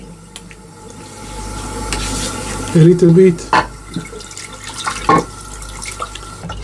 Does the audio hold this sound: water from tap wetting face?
yes